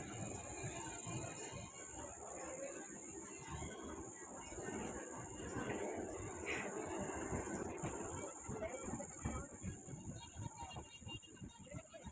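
A faint, steady rumble of a distant train arriving at Bantwal railway station, with a constant high insect chirring over it.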